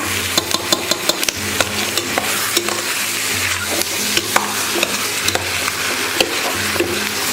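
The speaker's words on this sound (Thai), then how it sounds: "แล้วก็จะผัดไปเรื่อยๆนะคะ" Spices for a chicken curry are stir-fried in a pan, giving a loud, continuous sizzle broken by regular scraping and tapping strokes of the spatula, close up with no talking.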